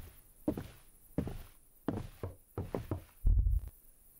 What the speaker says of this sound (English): I think I just heard someone knock on the front door.